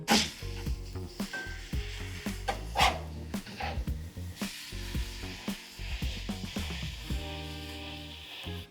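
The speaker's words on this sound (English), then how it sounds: "you really literally need to scrape it off that flat top" A metal scraper works across a hot cast iron flat top griddle on a grill while smash burgers cook, making repeated rasping scrapes and clanks in an irregular rhythm over a sizzling background.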